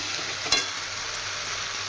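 Spices fry in a pan of oil while Bengali shukto cooks, a steady close sizzle with a couple of sharp spatters or utensil clicks near the start.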